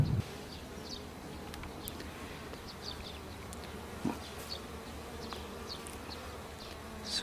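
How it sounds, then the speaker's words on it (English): Bees hum and buzz around small, south-facing hive entrances at an apiary, a faint steady drone with individual insects passing close by, and no voices. "they're busy little bees."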